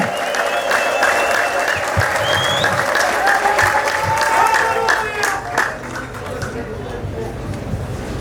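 A church congregation at a prayer service claps and ululates together in a dense, sustained wash of hand claps, with high trilling voices and crowd babble layered over it throughout.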